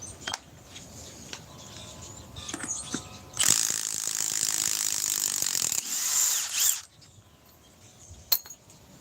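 A Milwaukee stubby ratchet clicks rapidly and loudly at close range in one sustained burst of several seconds, with scattered lighter clinks and handling taps around it.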